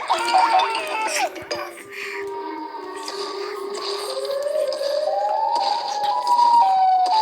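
A siren from an animation wails with a tone that climbs steadily in pitch, loud and continuous, with some background chatter and noise underneath.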